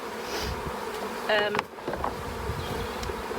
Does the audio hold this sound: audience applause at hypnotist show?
no